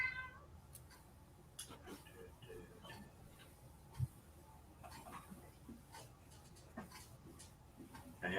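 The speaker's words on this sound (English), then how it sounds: "Oh, look at the kitty." A cat meows in short, faint calls scattered through a quiet room, with soft shuffling and a low background hum, and someone talks quietly nearby.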